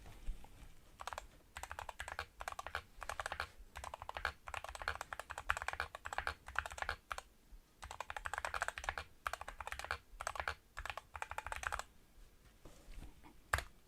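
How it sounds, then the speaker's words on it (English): Close, crisp typing on a computer keyboard during a tech show, with bursts of rapid keystrokes separated by brief pauses and a few heavier key presses, and no voices. "let's type something in here."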